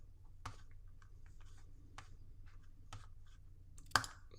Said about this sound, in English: you're going to type in your area code